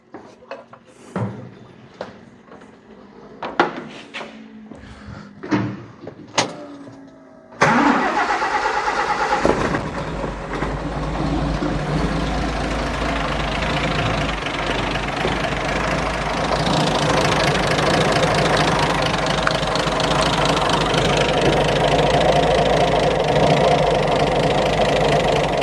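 A G60 Nissan Patrol engine turns over and catches, settling into a steady, loud rumbling idle that runs on after a few scattered clunks and knocks.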